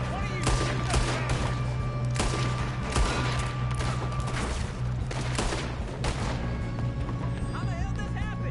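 Gunfire in Red Dead Redemption, repeated loud shots cracking out in a ragged rhythm over a steady background hum, with brief voices mixed in among the volleys.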